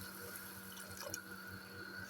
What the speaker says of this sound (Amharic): ሞቅ ያለ ውሃ በዚህ መልኩ እንጨምራለን